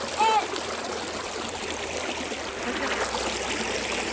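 A waterfall stream at a countryside picnic spot flows in a steady, continuous rush, with a brief bird chirp near the start.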